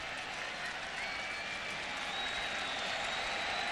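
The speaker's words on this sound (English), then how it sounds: "So now this Seahawks crowd gaining a little bit of momentum as the defense made the play." A Seahawks stadium crowd at a 1998 NFL game against Kansas City roars steadily after a defensive stop, a broad sustained wash of cheering and applause that swells slightly toward the end.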